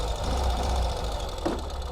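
A modern Ural two-wheel-drive sidecar motorcycle engine running steadily as it shifts into first gear, a continuous low throbbing drone with a brief mechanical clunk near the end, close by.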